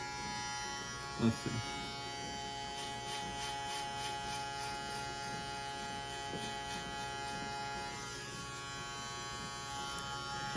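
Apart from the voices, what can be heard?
electric hair clippers buzzing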